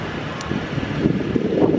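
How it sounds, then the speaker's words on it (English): Strong wind buffets the microphone outdoors near a cave in steady, gusting roars, loud and close, with no voices. "It's very windy."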